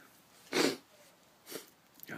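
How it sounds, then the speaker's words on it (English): A person with a cold sniffles a few times in short, sharp nasal inhalations, close and fairly faint, with quiet pauses between them. "God, it's cold outside. I got sniffles."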